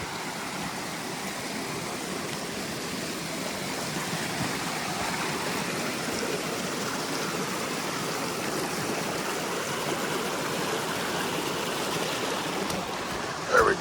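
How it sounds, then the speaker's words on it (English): A creek runs high with lots of water near Hurricane Mountain Shelter on the Appalachian Trail, giving a steady, moderately loud rushing wash that continues without a break, with a faint knock near the end. "I think this is the same creek that's at the Hurricane Mountain Shelter."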